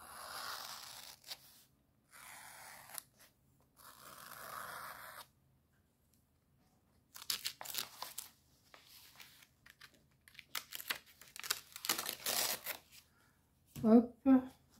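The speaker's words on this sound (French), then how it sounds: "Ouais, je vais découper ça." Scissors cutting paper for a Halloween collage, short bursts of snipping and rustling between stretches of quiet, close and fairly faint, with a brief low voice sound near the end.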